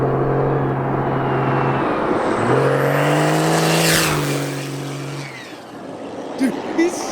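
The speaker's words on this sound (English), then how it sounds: "Sounds like he's locking the brakes up." A Cummins-powered truck engine drones loudly close by on salt flats and changes pitch as the vehicle slows hard with locked brakes, then fades, with brief voices near the end.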